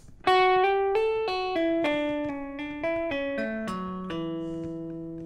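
An electric guitar plays a quick chromatic run of single picked notes stepping up and down, each note clear and ringing, with no talking.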